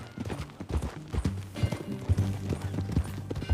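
Horse hooves in Red Dead Redemption 2 gameplay, steady rhythmic clip-clop of a riding horse at a walk, close and continuous throughout.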